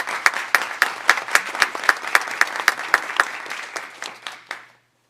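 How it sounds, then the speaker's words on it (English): Applause for a school board at a board meeting, a small group clapping in a clear steady rhythm of distinct, close claps that slows and stops. "give one more big round of applause for our school board"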